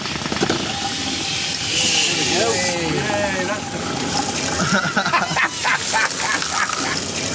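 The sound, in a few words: wastewater spraying from failed submarine waste system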